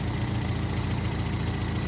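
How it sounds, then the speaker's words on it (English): A 1986 Nissan D21 truck engine idles steadily, a continuous low, even rumble with no revving, heard alone at moderate volume. "hopefully you can hear me talking over the engine running"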